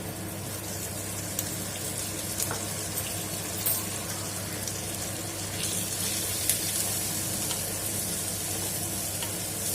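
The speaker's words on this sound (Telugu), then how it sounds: "చూస్తారు కదా ఫ్రై అవుతున్నాయి" Cabbage and cauliflower frying in a pan for mixed vegetable masala rice, a steady dense sizzle with occasional crackles running throughout, close and continuous with no talk.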